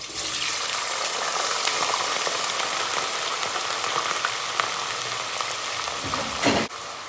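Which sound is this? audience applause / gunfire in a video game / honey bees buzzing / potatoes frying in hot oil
potatoes frying in hot oil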